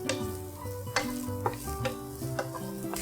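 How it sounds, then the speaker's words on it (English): Sliced button mushrooms, about six to eight of them, frying on high heat in a pan, giving a steady close sizzle broken by several sharp stirring scrapes and clicks, with no talk. "And I'm just going to add some button mushrooms that have been sliced up."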